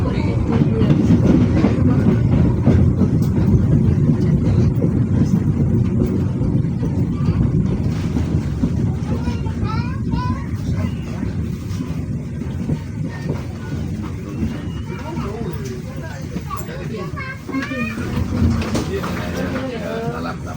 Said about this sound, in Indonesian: saat ini kereta api Pandanwangi sudah diizinkan berangkat kembali